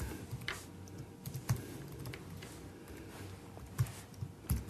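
Steady typing on a computer keyboard, close and fairly quiet, with light irregular key clicks and a few louder taps spread through the passage, no voices.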